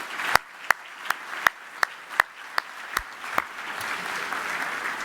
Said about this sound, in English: Let's give him a round of applause for his service to our country.